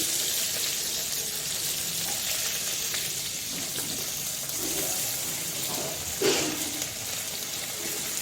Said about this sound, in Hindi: कढ़ाई में हमारा तेल गरम हो गया था, तो इसमें मैं थोड़ा सा जीरा डाल दी।